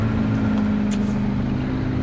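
An approaching car's engine rumbles steadily with a low drone, the vehicle close by idling or rolling slowly, no talking.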